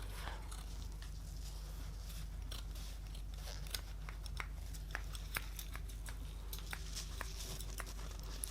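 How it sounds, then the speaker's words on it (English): Scissors make soft, close snips and crinkles as they cut facial pads in half during a quiet facial role play, over a low steady hum. "These are quite large, so what I like to do is cut them in half."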